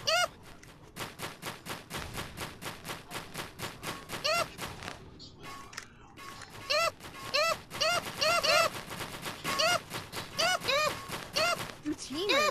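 Rapid bursts of gunfire from a gun in a Gorilla Tag knockoff game rattle out in quick repeated volleys, with a brief pause in the middle before the shooting resumes, fairly loud and dense.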